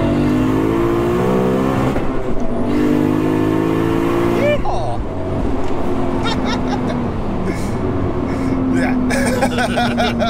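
A fully built 1100bhp 2JZ turbo Lexus sleeper pulls hard in third gear, its loud engine note climbing steadily, then dropping at a shift near the middle and rising again as people talk over it.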